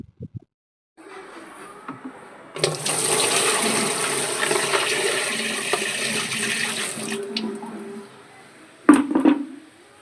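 Water gushes into the tub of a Skyzen 8.1 kg semi-automatic single-tub washing machine. The pour is loud and steady for several seconds, then stops, followed by a few clunks and a brief splash.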